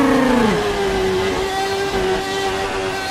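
Formula 1 car in a racing video game at Suzuka, its exhaust blown through the diffuser: a continuous loud high engine drone with a pitch drop near the start, then a steady sustained tone throughout.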